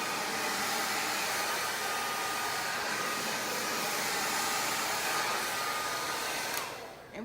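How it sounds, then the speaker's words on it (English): A hair dryer blows steadily and loudly at close range while hair is blow-dried in sections before flat ironing, a constant broadband whoosh that cuts off near the end. "So we'll be blow drying."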